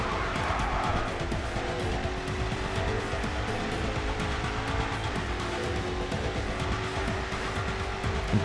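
In the racing game GRID 2, a race car engine strains hard with a dense, continuous roar, and tire squeal and skidding mix in at a steady, loud level from start to finish.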